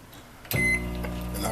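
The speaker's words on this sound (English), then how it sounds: "stick it in the microwave" Microwave oven switching on at about the half-second mark with a click and then a steady electrical hum, with a short tone near the start, heating water and grits for five minutes; close and fairly loud, no talk.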